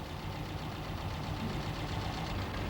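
A Citroën AX Sport engine idles steadily as its mixture screws are adjusted, a faint, even low rumble with a light rapid pulsing and no change in pace across the short stretch.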